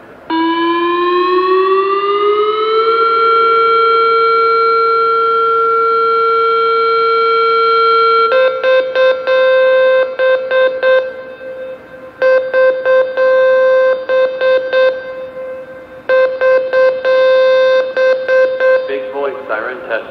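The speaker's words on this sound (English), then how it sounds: "This is a test of the Vanderbilt outdoor warning siren." A loud Hyperspike MA-1 outdoor warning siren under test at Vanderbilt University, Nashville, rises to a steady, sustained tone, then breaks into choppy pulsing bursts with brief gaps.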